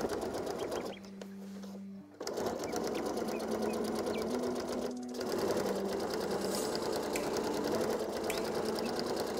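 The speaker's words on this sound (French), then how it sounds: "je vais effectuer sur le dessus du côté partie dos une petite surpiqûre à 1 ou 2 mm du sillon de la précédente couture" A sewing machine topstitches a pink raincoat. It whirs steadily and close-up, with two brief pauses where the stitching stops before it runs on.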